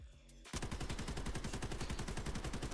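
Full-auto gunfire from a budget weapon build in the Delta Force video game: a sustained, rapid burst of loud shots in steady rhythm, starting abruptly after a brief quiet lead-in and continuing to the end.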